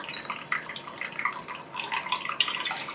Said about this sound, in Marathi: आता हे गरम पाणी असं घालून पनीर स्वच्छ धुवून घ्यायचं.